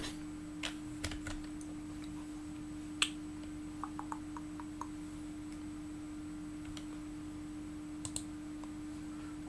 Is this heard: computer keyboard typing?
yes